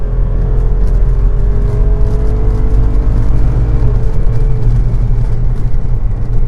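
A 2022 Jeep Wrangler Rubicon 392 accelerating hard, its engine droning loud and close with rising tones that step down as the transmission shifts quickly through gears.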